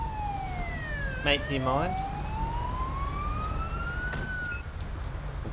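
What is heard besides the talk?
police car siren in video game GTA V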